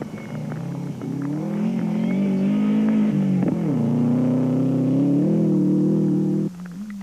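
A rally car at the 2007 Toyota Dealer Rally in South Africa roars past in the rain, its engine loud and close with a steady, revving note that dips briefly and then climbs again before cutting off sharply near the end.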